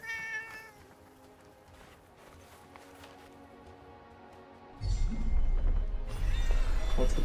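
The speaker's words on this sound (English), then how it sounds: "A cat." A cat in Forspoken gives a few thin meows over quiet, tonal game music, and the music then swells into a louder, fuller passage that buries them.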